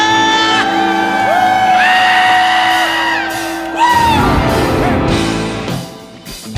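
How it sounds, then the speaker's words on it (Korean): A church congregation cheers and shouts together in long, sustained whooping tones, loud and echoing, with voices swelling and then breaking into a rougher crowd roar before tapering off. "우리 주님 다여 함성 한번 질러볼까요?"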